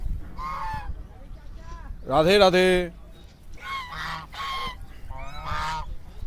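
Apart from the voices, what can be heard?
birds calling at a lake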